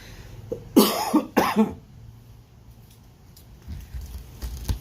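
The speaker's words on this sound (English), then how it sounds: "if y'all don't like hearing a person cough every couple of minutes" A person coughs twice in quick succession, close and loud, at an evening tailgate, followed by quieter low background rumble and faint knocks.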